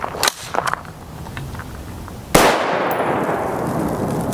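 Single sharp report from a Stag 5.56x45mm rifle with a 1-in-9 twist barrel firing Black Hills 50-grain TSX ammunition, a loud crack followed by a lingering outdoor decay, preceded by a few faint clicks.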